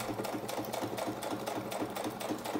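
A sewing machine stitches paper clusters for junk journals, a fast, even mechanical chatter running without a break at close range.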